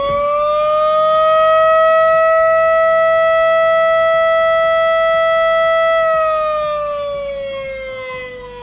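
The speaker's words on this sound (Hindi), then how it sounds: "15 सेकंड के लिए 3 बार बजने वाला अलार्म जिसके बीच 10 सेकंड का वक्फा हो, ऑल क्लियर का ऑडियो सिग्नल है।" An all-clear alarm siren at an industrial plant holds a single loud, steady tone, then slides down in pitch as it winds off near the end; only one sustained sounding is captured.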